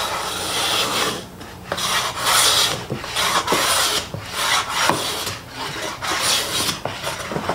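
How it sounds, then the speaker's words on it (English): A Millers Falls No. 9 hand plane with a 55-degree high-angle frog planes quarter-sawn sycamore in steady, rhythmic strokes, each pass a close, breathy rasping hiss. No one talks. "So let's take the Miller's Falls out for a test drive and see how it works."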